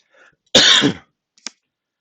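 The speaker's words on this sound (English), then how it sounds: "just a bit of a coughing and spluttering there." A single harsh, spluttering cough up close, followed by a brief faint throat noise after a short pause.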